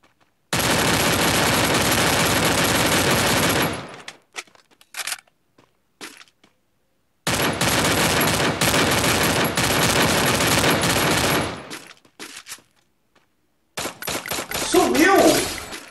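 Gunfire in the battle royale game Free Fire, including a VSS rifle, ripping out in two long sustained automatic bursts with scattered shorter shots and gaps between, loud and close.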